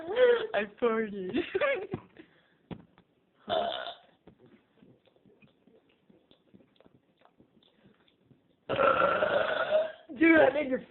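Loud, close burps during a burping contest among friends: a cluster of belches at the start, a brief one near four seconds, then more long, rough burps near the end, with voices talking and a quiet stretch in between.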